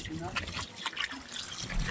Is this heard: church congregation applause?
no